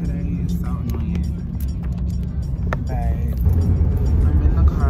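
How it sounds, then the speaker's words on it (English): Steady low road rumble and engine hum fill the cabin of a moving car, continuous and close throughout, with faint interior clicks and knocks on top and no clear talking. "But I'm in the car."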